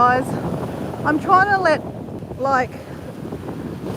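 Wind rumbles against the microphone outdoors by a camper, a low steady buffeting that continues under a person speaking close up.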